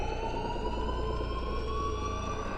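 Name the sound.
persistent alarm siren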